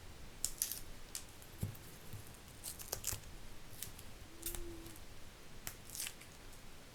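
Scissors snip through paper while a handmade Asian-style card is made, the blades gummed with glue and double-sided tape residue. Several sharp, close snips and rustles come in irregular bursts, with no talking.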